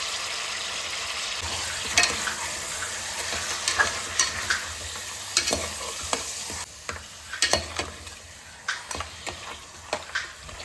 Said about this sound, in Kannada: ಒಂದು ಸ್ವಲ್ಪ ಫ್ರೈ ಆದಮೇಲೆ ಇಲ್ಲಿ 1 kg ಮಟನ್ ಇದೆ